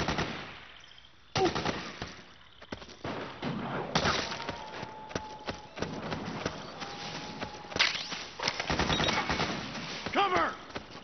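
Repeated bursts of suppressing gunfire in Metal Gear Solid 4, sharp rattling volleys and single cracks scattered throughout, with fast clattering footsteps and other battlefield noise mixed in.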